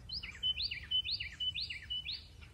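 A small bird chirps outdoors in a repeated series of about five bright, rising calls at an even pace, fairly close, over a low background rumble.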